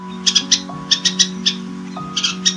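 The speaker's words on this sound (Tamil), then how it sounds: "இந்த சின்ன பறவை எழுப்புற சத்தம் இந்த காடையே அதிர வைக்குது" Small forest bird, the same species as Goa's state bird, calling in the Gavi forest: loud, bright chirps in quick clusters of two or three, repeated over a steady droning background.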